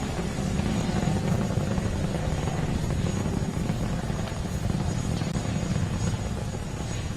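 A SpaceX Falcon 9 launching from Kennedy Space Center with BulgariaSat 1, its nine Merlin engines heard as a steady, distant, broadband roar without breaks, no speech.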